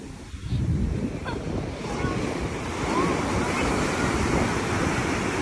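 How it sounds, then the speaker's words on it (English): Large ocean waves crash and roll onto a beach at high tide, making a loud, continuous roar of surf with heavy wind buffeting the microphone throughout. "Man, these waves are massive."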